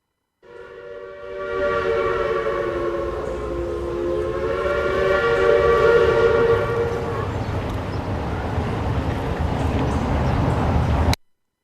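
A Passa Quatro train in Minas Gerais sounds a long, loud, sustained steam-style whistle that holds for several seconds over rumbling rail noise, then gives way to a rolling train rumble before cutting off abruptly.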